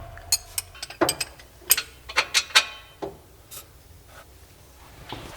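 A wrench works an axle nut during axle replacement on an Infiniti G37, giving a quick run of sharp, close metallic clicks and ratcheting taps for about three seconds, then a few softer knocks, with no talk.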